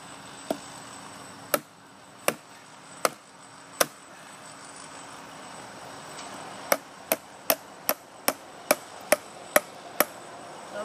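A Sasquatch knife is batoned through a knotty piece of hardwood, sharp, loud wooden knocks landing first at slow, uneven intervals and then in a quicker steady series of about a dozen strikes.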